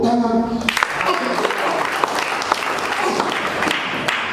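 A church congregation applauds during a sermon, clapping that begins after a brief sustained tone and continues as a busy, mid-level patter with a few sharper claps standing out, while a voice is faintly present underneath.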